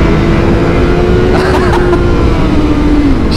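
BMW M1000R 2023 superbike engine under load, a loud continuous roar with a rising tone and rev changes through the clip, steady and close.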